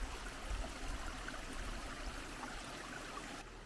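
Water pours over a leaky weir in a creek, a steady broad rushing wash heard close and continuous, with no voices.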